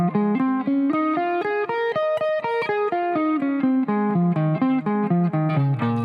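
A distorted electric guitar picks through a minor pentatonic pattern at two notes per string, evenly spaced, crisply articulated notes rising and falling in a steady rhythm, played up close and alone.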